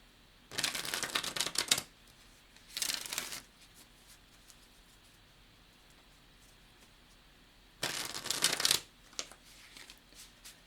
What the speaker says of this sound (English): Shuffle these up a little bit more.